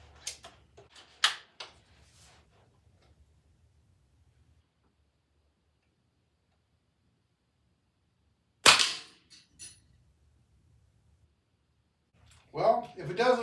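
A .177 Weihrauch pellet gun is fired at a trap, giving a few sharp close cracks with clicks of the mechanism and quiet gaps between shots.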